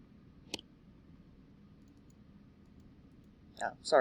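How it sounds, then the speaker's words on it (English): Computer mouse clicked while working in the Pixlr E image editor: a single sharp click, then a pause, then a quick double click near the end, close and quiet over faint room noise. "if you double click right here"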